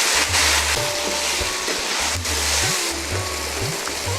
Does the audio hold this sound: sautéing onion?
yes